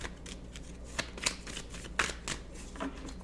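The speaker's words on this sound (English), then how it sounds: "I'm going to shuffle this deck" Tarot cards riffle and flick softly in quick, uneven bursts, a deck being shuffled nearby with faint papery snaps.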